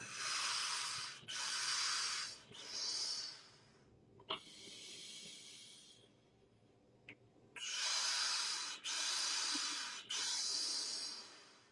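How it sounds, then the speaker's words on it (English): Loud, forceful breath exhales in a guided breathing exercise, several long rushing breaths in a row, then a quieter pause with softer breathing before more big exhales resume, close to the microphone. "3 exhale. A little bit bigger. More exhale."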